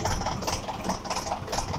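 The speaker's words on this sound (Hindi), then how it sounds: "आवाज़ सुन लो ट्रैक्टर की" A Mahindra 575 tractor engine runs steadily at idle, a loud, continuous diesel chug with a faint rattle.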